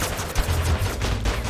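Rapid gunfire from the video game Totally Accurate Battlegrounds crackles in a dense, continuous burst that lasts the whole short moment, with no voices over it.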